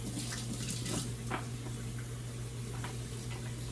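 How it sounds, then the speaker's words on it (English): Pork chops are rinsed under running kitchen tap water, a soft steady wash with light splashes over a low hum. "So what I do is I rinse them off again,"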